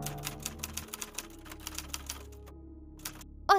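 Rapid clacking keystrokes of a typewriter in a horror video game, with uneven bursts of typing and a short chime-like sound at the end.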